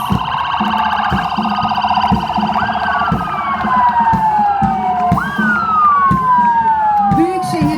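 Provincial health directorate emergency vehicles pass during a holiday ceremony parade, their wailing, sweeping sirens loud and close, overlapping and rising and falling, with a steady engine rumble underneath for nearly eight seconds.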